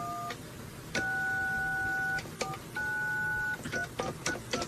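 Telephone dialing tones open a prank phone call on a radio show: a series of clean touch-tone beeps, some long and some short, followed by quick clicks, with no talking.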